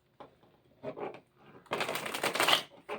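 Brisk riffling and shuffling of a tarot card deck, a few short bursts followed by a longer continuous shuffle, close and fairly loud.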